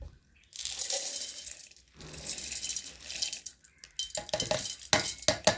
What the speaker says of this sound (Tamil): இப்போ நான் இதை வந்து இந்த மிக்சி ஜாரில் போடுறேன்